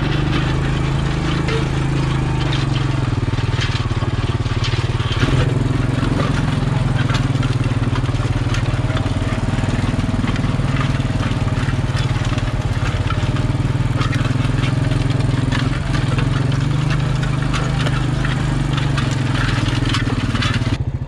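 A four-wheeler engine drones steadily and loudly at close range for the whole stretch as it drives over straw in a strawberry field, with a constant low rumble and faint crunching.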